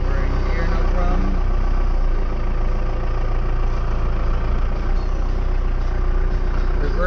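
A truck with an M5OD-R2 manual transmission drives while warming up, its heavy engine droning at a steady, loud, low rumble throughout, with someone talking over it.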